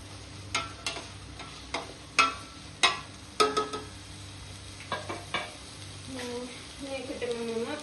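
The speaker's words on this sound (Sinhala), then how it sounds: "මේ ටික හොඳට මේ තෙල් වල පොඩ්ඩක් කර ටෙම්පරාදු කරලා බලන්න ඕනේ" Spatula strikes and stirring in a pan of hot oil as ingredients for Sri Lankan kottu temper, a series of sharp metallic clanks over a soft sizzle, close by, with a voice talking at times.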